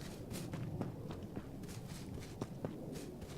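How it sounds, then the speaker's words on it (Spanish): Footsteps on grass in the video game H1Z1, a soft, quiet series of irregular rustling steps over a constant low background. "Las pisadas en el pasto, me confundí."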